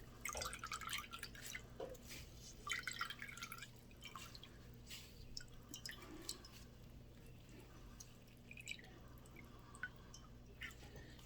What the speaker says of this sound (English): Look at all that fire cider coming out of there.